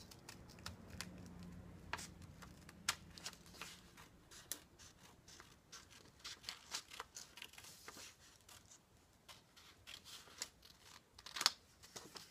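Scissors snipping through watercolor paper to shape a koi kite, with a series of quiet, close, irregular crisp cuts and faint paper rustling between them, with no talk.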